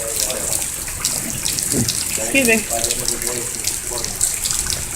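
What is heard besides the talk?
water rushing down toward a creek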